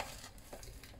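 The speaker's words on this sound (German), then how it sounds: "und gut verrühren." Half a bunch of chopped parsley being stirred into a crumbly börek filling in a bowl, a soft, continuous close-up scraping and rustling with no talk.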